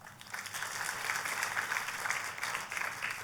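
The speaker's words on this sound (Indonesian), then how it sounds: "Boleh kasih tepuk tangan?" A congregation applauds during a church sermon, a steady wash of many hands clapping at moderate distance for a few seconds with no voice over it.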